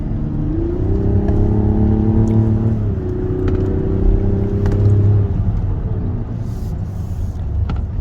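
A 2024 Mazda CX-90 on twisty roads, its engine droning loud and steady from inside the cabin, the pitch rising and falling as the SUV accelerates and eases off through the bends.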